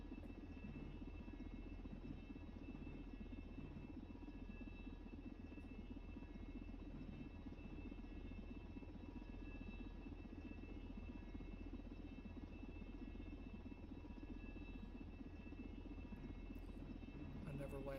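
Helicopter hovering in the SimplePlanes flight game, a steady droning rotor and engine hum that holds constant and fairly loud throughout with no break.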